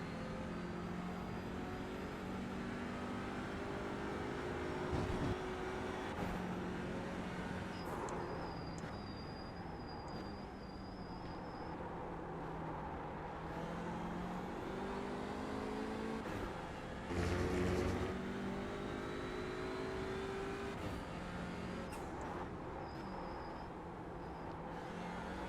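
TCR touring race cars, a Honda among them, accelerate with a loud, continuous engine drone whose pitch rises and falls through gear changes, steady throughout with no voices.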